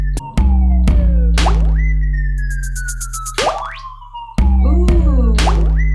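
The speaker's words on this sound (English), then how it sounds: "little droplet sounds" Electronic droplet sound effects in a SOPHIE track, rubbery boing-like pitch-bending blips with sweeping glides over a deep sustained bass, loud and prominent, repeating in bursts.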